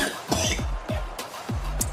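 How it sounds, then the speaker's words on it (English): A few short coughs in quick succession from a nearby person, dry and abrupt with brief gaps, under light background noise. "having a lot of coughs"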